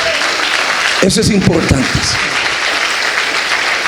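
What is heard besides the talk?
church congregation applause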